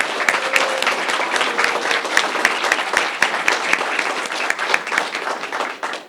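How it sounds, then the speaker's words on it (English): Applause at a police promotion ceremony for a newly promoted sergeant after the badge pinning, steady clapping from a gathered crowd that fills the whole stretch and thins slightly at the end. "Round of applause for now, Sergeant Dixon."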